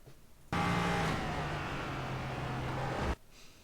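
An LMP3 prototype race car in iRacing at Sebring accelerates hard, its engine note loud and sustained for a few seconds, rising as power goes down, then cutting off abruptly.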